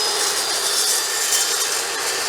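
A saw blade cutting through 1/8 inch thick mild steel, heard as a loud, continuous, hissing grind that holds steady from start to finish, with no talking.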